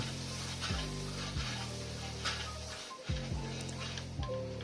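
Ginger, green chili and garlic paste sizzles in a hot pan with tomato, a steady frying hiss with soft stirring scrapes, while a low background hum rises and drops in repeated sweeps.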